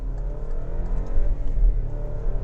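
A 2018 Alfa Romeo Stelvio engine revving through a gear shift, a deep steady drone with a slight dip and rise in pitch, heard close from inside the cabin without talking.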